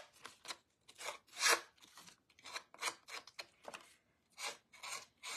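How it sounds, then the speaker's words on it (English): Metal snips scraping and rubbing along the edges of patterned paper for a card, a quiet run of short rasping strokes in an uneven rhythm with brief pauses. "So I'm gonna open my snips."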